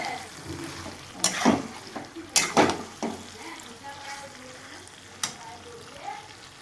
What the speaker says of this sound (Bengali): তার মধ্যে দুটো টমেটো ছোটো ছোটো দিয়ে দিলাম, একদম এই সিচুয়েশনে এবারে কষানো চলছে।